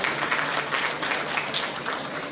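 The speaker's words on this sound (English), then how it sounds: "Can we all give a huge round of applause to Ms. Suman Mishra?" Audience at an electric-vehicle expo applauding, a full burst of many hands clapping with slight swells in intensity, moderately loud and without speech.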